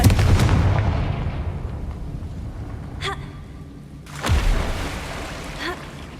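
Confringo fire spells burst in Hogwarts Legacy: a booming explosion lands near the start, a louder broad blast hits past the midpoint, and a rumbling, rain-like crackle fills the gaps between them.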